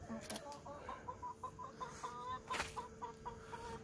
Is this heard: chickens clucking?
yes